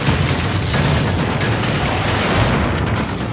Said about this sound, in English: With team support weapons like barrel bombs, which will burn your enemies alive.